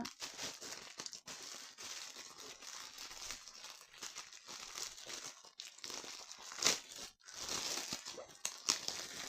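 Packaging being handled and torn apart during a clothing unboxing, with continuous close crinkling and crackling of plastic or paper and a few sharper tearing bursts near the end, with no talk.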